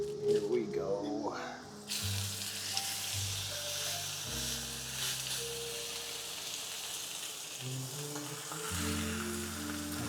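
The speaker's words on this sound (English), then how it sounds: "Have to lay that on there and get a really, really good sear on that" A 12-ounce steak sears in a hot pan, giving a steady broadband sizzle that lasts throughout, with low mellow jazz-like tones underneath.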